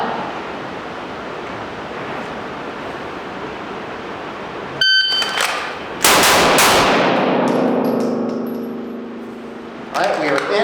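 Gunshots from a shooting drill fired from a fence start position, a few sharp loud reports in the second half following a steady noisy background, with ringing tail and a short burst near the end.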